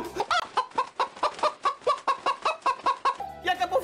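A human voice imitates a clucking hen with a rapid, steady run of about fifteen close, loud clucks, ending in a short squawk.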